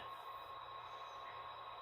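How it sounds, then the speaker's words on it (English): Model train with a locomotive hauling a maintenance-of-way work train up a grade gives a steady, continuous mechanical whir with a thin sustained whine, even and unbroken throughout. "you want us to pull a train up a grade"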